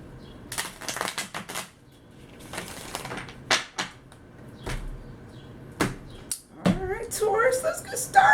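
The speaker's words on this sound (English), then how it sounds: "One more shuffle." Tarot cards are shuffled in a few riffling and slapping bursts close by, between pauses, followed by quiet shuffling sounds as a voice begins near the end.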